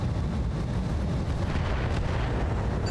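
Continuous booming, rumbling mortar fire from the BattleTech RogueTech mod, dense low-end blasts layered over one another at steady loudness, with no talking.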